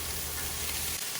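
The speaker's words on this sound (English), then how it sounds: "Now let's listen to that sizzle." Onions sizzle on a hot griddle for Philly cheesesteaks, a loud, steady frying hiss with a faint low rumble underneath.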